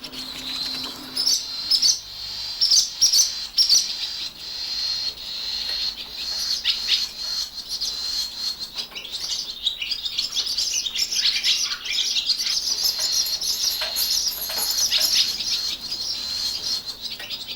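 Barn swallows twitter and chirp inside an old, dark farm stable, a dense run of high, quick calls that continues throughout at close range, with a few brief louder bursts near the start.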